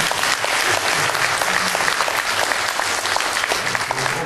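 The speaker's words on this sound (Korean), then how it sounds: "박수 한번 보내주시면" A Korean-language gathering in New York applauds together, a dense, steady wash of clapping from a room of attendees that holds at full strength for the whole stretch with no voices over it.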